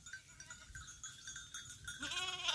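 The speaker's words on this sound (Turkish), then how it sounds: "Her taraf keçi" A herd of about 200 goats bleat in overlapping calls amid a faint outdoor murmur near Lake Eğirdir, Turkey, one loud wavering bleat rising near the end.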